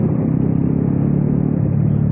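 A Royal Enfield Classic 350 motorcycle, last-generation model, idles steadily nearby with a deep, even thumping rumble that stays loud and unbroken throughout.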